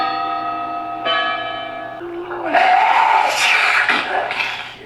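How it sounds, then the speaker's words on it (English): A church bell rings out in rich, sustained resonant strikes, one tolling after another, before a loud, washy swell of noise like an agitated crowd takes over. "That's the bell tolls. That has to be the bell"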